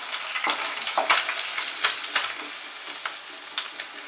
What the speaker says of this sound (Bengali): এবারে মাছগুলোকে আমি ভেজে নেব।